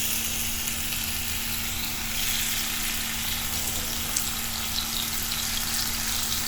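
Tomatoes, cut side down, sizzle in oil in a cast iron pan over a high flame, giving a steady, close hiss that holds even throughout with no voices.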